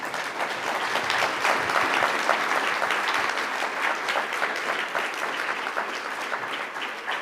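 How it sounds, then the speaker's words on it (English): An audience at a regional government State of the Region event claps in sustained, even applause that holds steady throughout without cheering or talk. "Can we give her a round of applause?"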